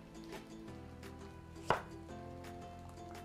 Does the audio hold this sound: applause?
no